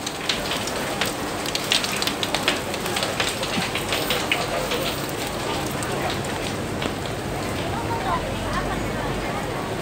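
Heavy rain pours down steadily at a market in Hong Kong, a dense constant hiss of drops striking surfaces nearby, with a voice occasionally speaking over it.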